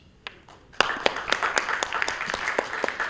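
A conference audience applauds after a presentation at an international public procurement event. After a couple of stray claps, dense clapping starts and holds steady for several seconds, filling a large hall.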